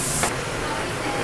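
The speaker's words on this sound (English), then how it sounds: "He's spraying. He's spraying. It's happening." Spray painting, a brief loud aerosol hiss burst at the start that cuts off, followed by a broad noisy background wash.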